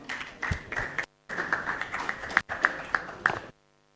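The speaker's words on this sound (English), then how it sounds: "A round of applause as he comes on the stage." An audience at a university innovation week event applauds as a student speaker walks on stage, a dense, steady clapping wash in three bursts broken by two brief silent cuts, fairly close and loud.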